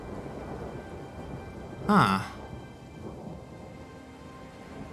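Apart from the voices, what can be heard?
rain and thunder in a video game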